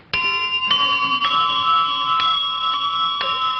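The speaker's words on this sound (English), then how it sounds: "Kids, what do those bells mean?" Bells ring out in a series of clear, sustained metallic strikes, roughly six of them spaced about half a second apart, with long overlapping tones. They are loud and close, with no voices over them, on a 1951 children's television show.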